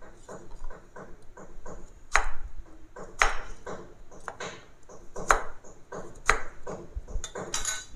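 Jengkol beans being chopped into small pieces with a knife on a cutting board, a steady series of sharp, close knife taps with a few louder thuds, heard alone without talk.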